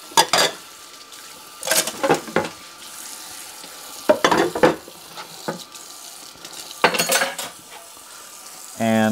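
Dishes and a Lodge pan being washed at a kitchen sink after a beef bowl meal, with repeated bursts of running tap water and clattering, splashing scrubbing separated by quieter gaps, close and fairly loud.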